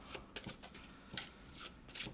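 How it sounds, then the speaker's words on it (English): A deck of game cards from a tabletop card game being shuffled, a series of quick soft riffling bursts at an uneven rhythm, close and quiet with no talking. "So we're going to give this a shuffle"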